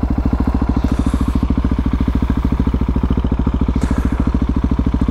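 A Husqvarna 701 supermoto single-cylinder engine chugging at low revs, loud and close, with a steady, rapid, even thumping pulse throughout and no talk.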